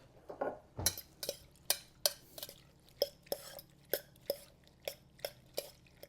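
Mushrooms being stirred by hand in a bowl, a steady run of about a dozen soft, wet clicks and clinks spaced roughly half a second apart, close and fairly quiet with no talking.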